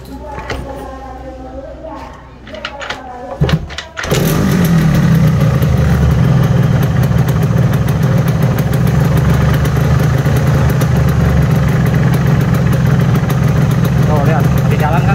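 A Yamaha RX King two-stroke motorcycle engine starts up and settles into a loud, steady idle close by, running continuously after a few seconds of quieter handling noise.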